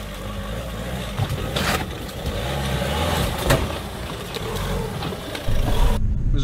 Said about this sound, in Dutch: We rijden met een 4x4 Berlingo in dit geval.